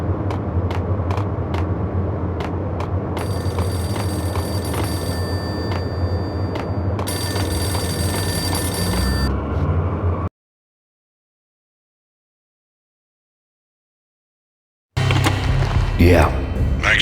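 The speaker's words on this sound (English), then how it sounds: "The payphone started to ring." Payphone ringing in the Max Payne video game, with repeated bell rings over a steady low game-ambience rumble, then a few seconds of silence before the ambience returns.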